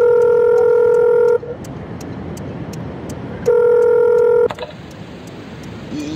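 Touch-tone keypad beeps from a phone being dialed to report a crash to police in a car accident simulator game, two loud steady bursts of tones separated by a quieter stretch of idling vehicle ambience.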